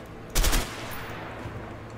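A single loud gunshot cracks out in the video game A Way Out, a short blast over a steady low game-background hum, with no one speaking.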